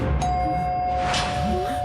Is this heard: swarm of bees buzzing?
no